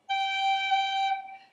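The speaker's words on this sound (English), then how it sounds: "Then you're going to do a tap with your F finger like this." A steady held note on a chanter or pipes, broken by a brief tap grace note struck with the F finger, then tapering off, played alone with no talking.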